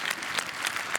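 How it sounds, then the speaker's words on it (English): Brief burst of audience applause at the International Children's Peace Prize ceremony, a thick wash of many hands clapping at steady strength. "So big applaud to all the kids around the world"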